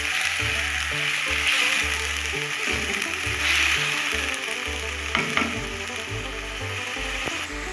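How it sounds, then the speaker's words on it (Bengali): Chicken curry with potatoes sizzles and fries in a pan while being stirred, steady crackling broken by scraping and clinking of the utensil against the pan, close and loud with no talk. "এবার একসঙ্গে সব আরও কিছুক্ষণ আমি কষে নিই।"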